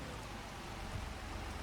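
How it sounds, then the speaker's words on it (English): Steady rain falling outdoors near a farm field, a constant soft hiss of drops that stays even throughout with no talking. "it has started raining"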